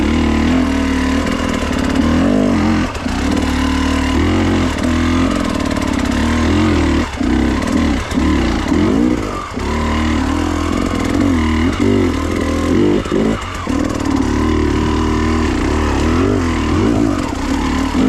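Enduro motorcycle engine revving and surging while climbing a steep switchback, loud and close, with continuous throttle swells and brief dips over about eighteen seconds.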